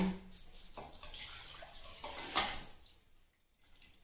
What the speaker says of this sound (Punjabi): ਇੱਕ ਕੱਪ ਭਰ ਕੇ ਪਾਣੀ ਦਾ ਪਾਏਗਾ